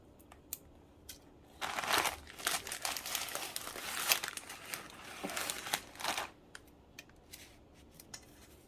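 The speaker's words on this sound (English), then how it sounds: "You break it in half and you crisscross it as you lay it in there." Dry spaghetti is snapped and laid crisscross into a Ninja Foodi pot, giving a quiet burst of crackly snapping and rustling in the middle with a few sharp ticks before and after.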